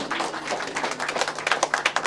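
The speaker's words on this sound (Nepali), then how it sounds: "त्यसले गर्दा ताली जोडदार ताली पड्काइदिनुहोस्" Applause from guests at a Nepali Christian wedding: light, scattered hand claps that grow denser and sharper toward the end, fairly close and moderately loud.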